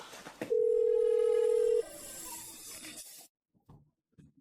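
A telephone dial tone sounds as a single steady beep lasting just over a second, followed by faint handset noise and brief quiet clicks.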